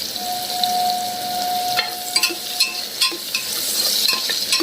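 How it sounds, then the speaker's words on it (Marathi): Onion with a pinch of salt sautés in a pan until golden, a close, steady sizzle broken by several clicks and scrapes of stirring through the middle. "सोनेरी रंगाचा होईपर्यंत हा कांदा परतून घेऊया"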